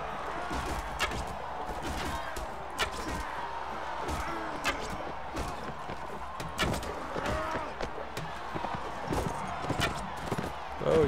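Horse hooves clattering in the Mount & Blade Warband video game, an irregular run of hoof and impact sounds over steady battle din, with talk throughout.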